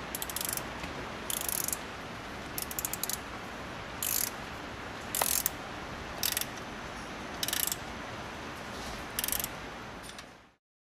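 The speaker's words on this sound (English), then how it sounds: "I tightened the bottom bolts, now I'm going to tighten the top ones." Ratchet wrench tightening the top bolts on a freshly installed fuel rail and injectors of a turbocharged Toyota AE86, heard as short bursts of quick clicking spaced across a steady background hiss, with no talk.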